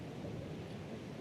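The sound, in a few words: wind and rain during outdoor rugby match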